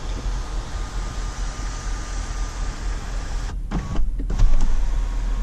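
A 2017 Ford F-350's twin-panel moonroof motor hums steadily inside the cab, a continuous electric whine over a broad background rush, with a few clunks and a slight swell toward the end.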